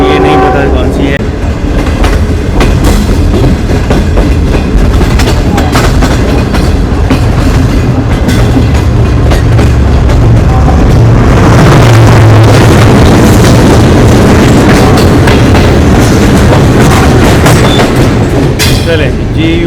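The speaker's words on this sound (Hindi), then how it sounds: "GU40 की लीड में ये थी एक फ्रेट ट्रेन" Freight train led by a GU40 locomotive passing at night near Hyderabad, a loud, close rumble with rhythmic wheel clatter building to a peak midway, with voices and a horn-like tone heard against it.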